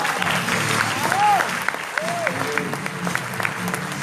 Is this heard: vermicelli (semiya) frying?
no